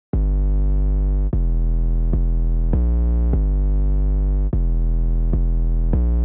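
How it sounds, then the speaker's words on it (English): Deep, booming 808 bass notes for a beat, repeating in a steady pattern, each sustained and changing pitch, loud and dominant with no other instruments evident. "I just played this very simple 808 bass line that went perfectly with the main melody"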